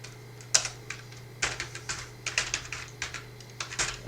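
Commands typed on a computer keyboard at a Linux command line on Debian, a steady run of close, crisp key clicks with irregular rhythm and a few harder strikes, with no talking.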